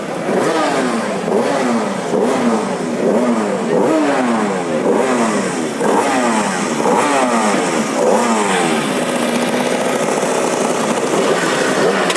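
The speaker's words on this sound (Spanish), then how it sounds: "La moto de Bruce Anstey, que está llamado a ganar esta categoría si hoy le sale bien la cosa. Ahora volvemos a escucharla." Bruce Anstey's two-stroke Lightweight racing motorcycle at the Manx Grand Prix, revving hard: loud repeated rising and falling engine sweeps as it works through the gears, settling into a sustained high whine.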